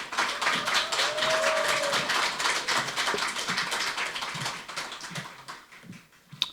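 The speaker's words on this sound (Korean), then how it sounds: "뜨거운 박수 부탁드립니다." Crowd at a political party launch event claps for an incoming speaker, a broad wash of applause mixed with cheering and a brief whistle-like tone, fading somewhat toward the end.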